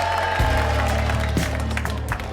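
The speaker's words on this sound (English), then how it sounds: "come on, a big round of applause for Mr. and Mrs." Wedding guests applaud the newlyweds, a short burst of crowd clapping heard over steady background music, with some voices mixed in.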